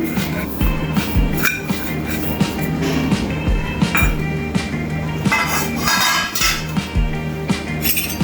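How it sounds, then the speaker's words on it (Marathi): A pot of boiling water on a low gas flame being stirred as rice flour goes in, with rhythmic metallic clinks and scrapes of the spoon against the pot repeating steadily over a low bubbling hum. "आणि लगेचच ते असं ढवळून द्यायचं आहे ते व्यवस्थित ढवळून घ्यायचं आहे"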